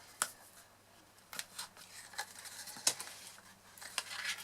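Scissors trim stray bits of fabric and adhesive from a handmade bag, a series of quiet, separate snips and clicks spaced irregularly at close range, with no talking.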